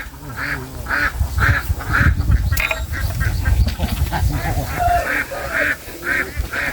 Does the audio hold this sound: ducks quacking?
yes